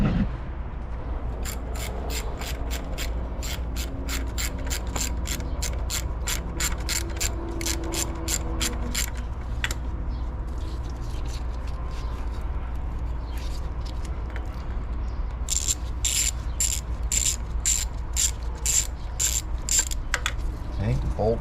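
A ratchet with an 8mm socket on a 1/4-inch extension loosens a thermostat housing bolt on a V6 Ford Mustang, giving two runs of rapid, evenly spaced metallic clicks close up, over a steady low hum.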